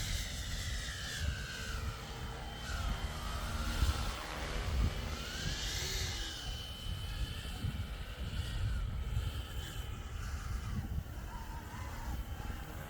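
An EC135 helicopter flies in windy conditions, its steady rotor and turbine roar filling the whole stretch with a broad, continuous wash. A slow swell rises near the middle as the machine passes closer.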